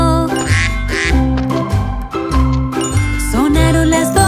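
Cartoonish duck quacks repeat in rhythm within a bright Spanish-language children's song about a duck climbing a clock, with tinkling bell-like tones and tick-tock music, loud and upfront.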